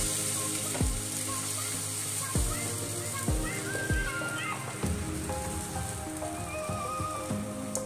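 Beaten egg frying in hot ghee on a pan for egg toast, a steady close sizzle and crackle running throughout with a few soft scraping knocks from a utensil.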